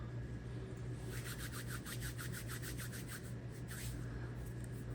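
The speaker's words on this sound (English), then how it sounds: "Ever so often you just take your hands and rub them together with a little bit of flour." Floured hands rubbing together to clear sticky pumpkin pie dough, a steady series of soft, rhythmic dry brushing strokes close by, with no talking.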